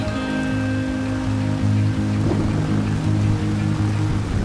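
Steady pouring rain hisses in Farming Simulator 25, a constant wash over a low droning machine hum with a brief clatter partway through.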